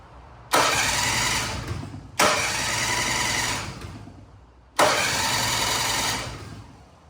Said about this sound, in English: Starter was definitely engaging, so that works.